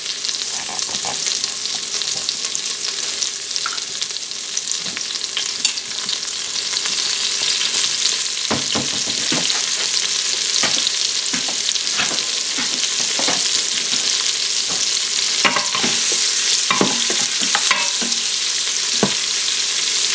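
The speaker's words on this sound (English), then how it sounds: "We just want to brown the outside of this beef." Beef browning in an Instant Pot for a low-carb beef bourguignon, a constant bright sizzle that grows fuller after the first few seconds, punctuated by scattered pops and crackles.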